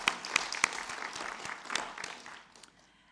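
Audience applause at an annual general meeting of a learning technology association, a short burst of clapping from a seated crowd that fades out toward the end.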